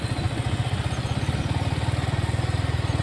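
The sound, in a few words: motorbike passing by on the road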